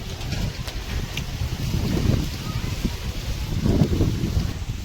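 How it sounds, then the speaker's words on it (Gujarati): Strong wind buffets the microphone outdoors in a village, heavy low rumbling gusts that swell and fade, close and loud, with faint voices beneath. "પવન બહુ ઉડ્યો છે હો ભાઈ"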